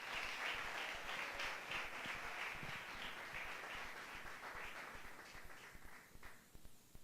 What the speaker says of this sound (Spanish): Yo quiero que les dé un aplauso a Israel por Jesucristo.